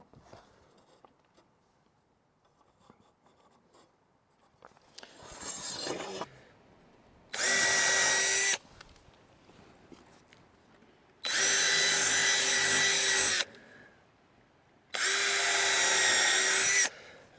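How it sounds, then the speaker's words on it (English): Power drill driving screws into wooden planks, three loud sustained whirring bursts of a few seconds each, close by, with quieter handling and rustling between them. "put some screws in here"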